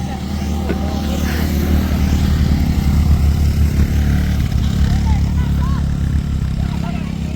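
A motorbike engine drones steadily close by at a busy village market fair on a hill trail, a low, continuous hum that runs under talking voices.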